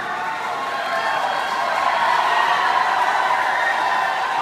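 Loud, steady roar of a cheering crowd at the closing ceremony of a taekwondo competition in Lucknow, a continuous dense wash of voices that swells slightly midway and holds at full strength.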